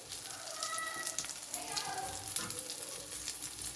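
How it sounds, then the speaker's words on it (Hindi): An omelette sizzles and crackles in a frying pan with green and purple colours and onion in it, a steady close hiss with faint spatters throughout. "ये देखिए जनाब, ऑमलेट हो रहा है तैयार"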